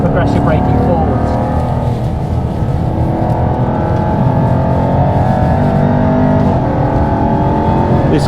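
Jaguar Project 8 driven on a race track, its engine a loud, steady low roar heard from inside the car for several seconds, with voices talking over it.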